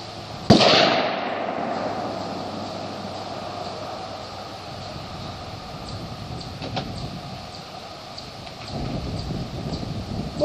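A single sharp, loud rifle shot fired during a hand guard heat test rings out near the start and fades, leaving a steady low background noise afterward.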